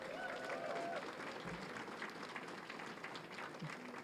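Applause from an audience at a political event, a soft, distant wash of clapping that stays steady throughout, with faint voices underneath.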